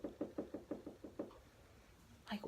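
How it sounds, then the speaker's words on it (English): Knocking on a bedroom window late at night: a quiet run of about seven evenly spaced raps, followed by a short pause and a faint final thud, with no voices. "at my bedroom window, knocking on my window"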